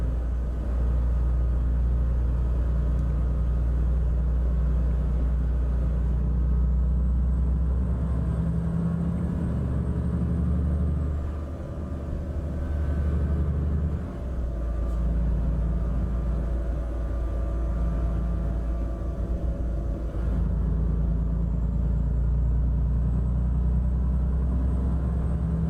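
A heavy truck in Euro Truck Simulator 2 hauls a load down the road, its engine a steady low rumble droning continuously throughout with slight dips, no voices over it.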